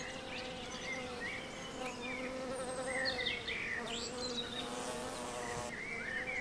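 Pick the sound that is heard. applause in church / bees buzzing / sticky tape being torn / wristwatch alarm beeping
bees buzzing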